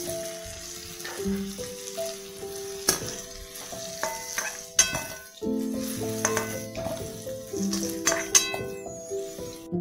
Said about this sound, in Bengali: এই তেলে আমি শুকনো লঙ্কা, জিরে আর তেজপাতা ফোড়ন দিলাম